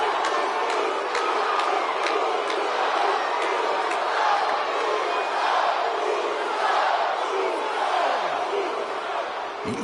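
Crowd cheering and roaring in a WWE wrestling video game, a continuous dense wall of arena noise lasting the whole stretch, with occasional whoops and sharp impact-like accents rising out of it.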